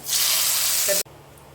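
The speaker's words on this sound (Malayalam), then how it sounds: "അപ്പം കടുക് വറുത്ത് നമുക്ക് ഒഴിക്കാം." Mustard seed tempering hits pepper chicken in one loud, rushing sizzle that lasts about a second and then stops abruptly, leaving near silence.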